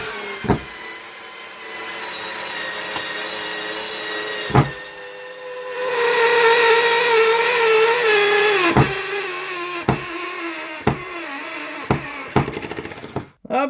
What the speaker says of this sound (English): Look at it drive that screw.